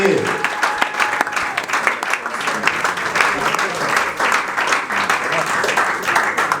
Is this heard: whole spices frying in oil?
no